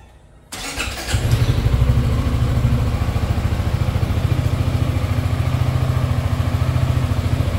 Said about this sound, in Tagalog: At ito na nga guys, start na nga natin tong motor.